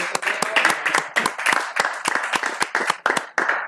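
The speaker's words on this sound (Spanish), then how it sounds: "Un aplauso para comandante, loco." A small group claps for a Mortal Kombat 11 tournament placer: close, uneven hand claps in loose bursts with sharp individual slaps, no voices over it.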